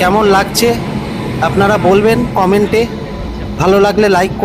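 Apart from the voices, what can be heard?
No everyday noises stand out.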